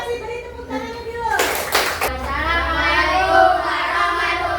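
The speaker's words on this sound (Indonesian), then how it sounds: "Beri tepuk tangannya dulu." A classroom group claps for a presenting group, a short burst of hand claps that fades while children and a teacher talk before and after.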